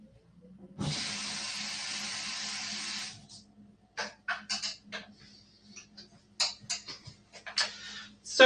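A tap runs water into a container for oil painting, a steady hiss for a couple of seconds before it stops, followed by clinking, knocking and handling sounds at close range, with no talking.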